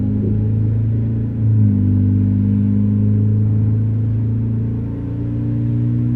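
Low, rumbling engine of a 2011 Volkswagen Polo GTI in American Truck Simulator, holding a steady drone with a couple of small rev changes, close and continuous.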